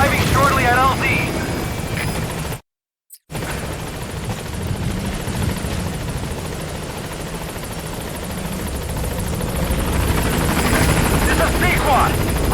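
In the Metal Gear Solid V video game, a helicopter arrives at a landing zone with a continuous, steady rotor drone and engine whine. The sound drops out briefly near the start.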